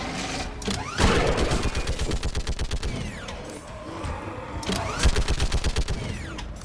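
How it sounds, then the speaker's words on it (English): Rapid bursts of automatic gunfire in the Mass Effect 3 video game battle on Thessia, loud and sustained in two waves with short echoing gaps between volleys. "Keep firing!"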